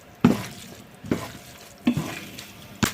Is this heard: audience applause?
no